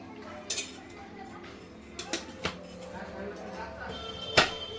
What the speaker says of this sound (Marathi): बघा मी कढई घेतलेली आहे त्याच्यामध्ये दोन चम्मच तेल टाकून घेणार आहे